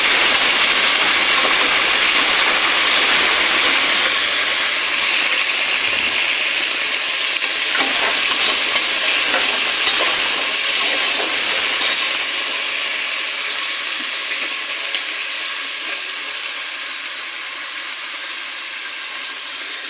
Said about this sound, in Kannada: ಇವಾಗ ಅದಕ್ಕೆ ನಾನು ಹೆಚ್ಚಿಟ್ಕೊಂಡಿರೋ ಟೊಮೊಟೊ ಮತ್ತು ಈರುಳ್ಳಿ ಹಾಕ್ತಾಯಿದ್ದೀನಿ. ಎರಡು ಚೆನ್ನಾಗಿ ಫ್ರೈ ಆಗಿ